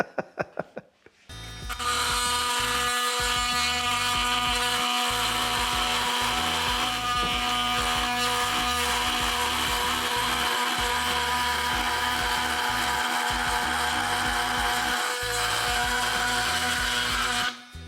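An oscillating multi-tool blade saws through a metal bolt with a loud, steady high-pitched buzzing grind that holds for about fifteen seconds, starting and stopping abruptly, with no voices.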